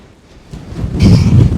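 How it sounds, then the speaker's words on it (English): Strong wind gusting on an exposed mountain top on the Isle of Skye, buffeting the microphone in a rising, roaring rush that grows louder over a second and a half. "Man, it's windy up here."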